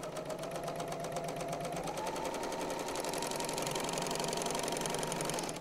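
A serger sewing machine stitches a seam on a bow tie quilt block, a steady fast mechanical whir running continuously and close up, growing slightly louder and brighter partway through, with no talking.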